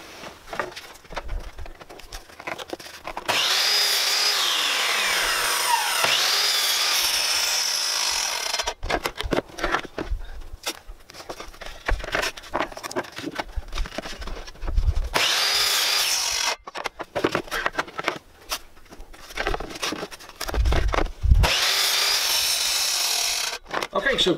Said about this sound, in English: I'm just going to trim off the end of this board here because it's not very square.